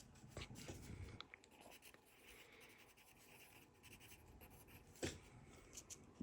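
Pen or pencil writing on a surface during a lesson, a soft continuous scratching and rubbing with a couple of sharper strokes near the end, faint and close with no talk.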